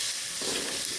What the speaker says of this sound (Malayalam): ഉള്ളി വാട്ടി കൊടുക്കട്ടോ